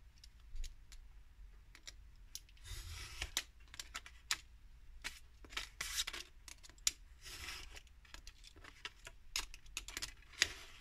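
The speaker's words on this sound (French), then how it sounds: "Mes ciseaux, ils coupent pas." Scissors snip through card in a quick, irregular series of crisp cuts, close and quiet, with small pauses between snips.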